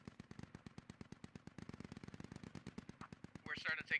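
Rapid bursts of automatic gunfire in the military shooter Squad, a steady stream of sharp shots with sporadic louder, closer blasts near the end.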